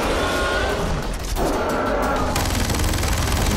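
Rapid automatic gunfire in Far Cry 4, fired at a yeti in a cave, rattles loud and continuous in dense bursts for several seconds with no talking.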